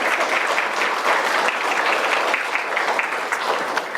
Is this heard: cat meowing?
no